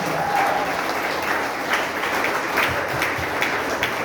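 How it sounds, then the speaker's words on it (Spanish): A church congregation applauds during a wedding-vow service, a steady wash of many hands clapping in a reverberant hall, fairly loud and unbroken. "Vamos a darle un aplauso"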